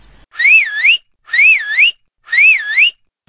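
A whistled tune from a rabbit character in a spoken story: three separate short phrases of wavering, warbling whistle, each about three-quarters of a second long with brief pauses between, clear and close with no talk.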